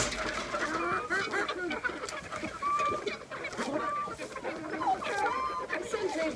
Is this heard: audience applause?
no